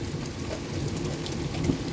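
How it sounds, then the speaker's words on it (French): Steady pattering of small hailstones and heavy rain striking surfaces outdoors during a thunderstorm, a constant rushing texture with no speech. "C'est des petits morceaux de grêle."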